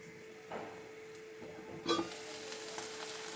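Fenugreek leaves (meethi sagh) fry quietly in a pan, giving a soft, steady sizzle with a brief louder flare of crackling partway through.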